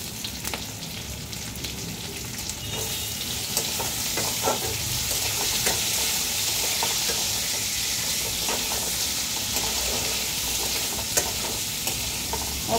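Tomatoes and salt frying with mutton in a pan for a vegetable stew, making a steady, loud sizzle with repeated scraping and stirring throughout.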